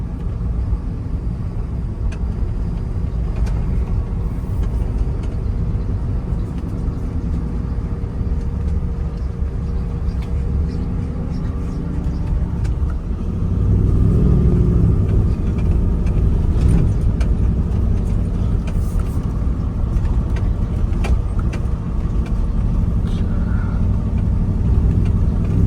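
A 1972 Ford F250 with a Coyote engine swap cruising at modest speed, a steady low engine and road rumble heard from inside the cab, growing somewhat louder midway, with no talking.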